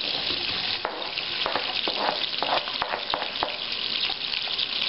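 Onions sautéing in melted butter for oyster and artichoke soup, a continuous close hiss of frying with scattered spoon taps and stirring scrapes, no talk.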